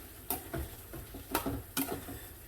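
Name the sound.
onions and peppers put back into the pan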